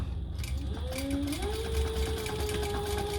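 A sewing machine runs a chain stitch on handbag fabric with a steady mechanical whir, its pitch rising as it speeds up after a quiet start, close and moderately loud.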